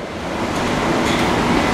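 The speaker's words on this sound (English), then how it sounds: "Might be a little bit loud down here because the furnace is down here" A furnace runs in a basement, filling the space with a steady, loud broadband roar that holds constant throughout, with no voices over it.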